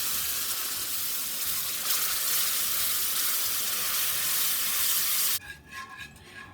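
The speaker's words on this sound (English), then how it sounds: "So now we're going to slowly add in 2 cups of beef broth, or you can use beef stock." Beef broth is poured into a pan of Swedish meatballs with browned butter, raising a loud, steady sizzle and hiss that runs for about five seconds, then cuts off abruptly, leaving quieter bubbling.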